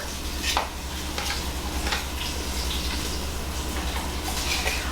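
Peanut butter being creamed for chocolate peanut butter cookie dough, giving a steady, close sticky stirring and mixing sound with soft scraping pulses throughout over a low constant hum.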